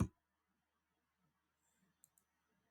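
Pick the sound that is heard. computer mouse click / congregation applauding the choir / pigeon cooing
computer mouse click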